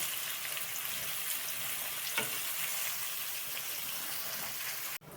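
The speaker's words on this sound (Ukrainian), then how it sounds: "Коли м'ясо вже трошки підрумянилося, додаємо багатенько цибульки. І знову трішки обсмажуємо." Chunks of meat with plenty of chopped onion frying in a pan while cooking buckwheat porridge, a soft steady sizzle and crackle at low level, a faint stir near the middle, cut off abruptly at the end, no talking.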